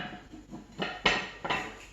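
A metal cornbread pan slid back into an oven gives a few close clanks and scrapes, two sharp metallic knocks standing out near the end.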